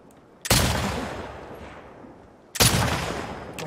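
Gunshots in the video game The Last of Us Part II: two loud, sharp, close shots about two seconds apart, each followed by a long decaying echo, with no talk.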